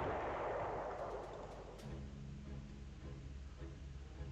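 Artillery fire in a WWII strategy video game, a heavy distant boom that rumbles and decays, followed by a few faint sharp shots and a low steady drone.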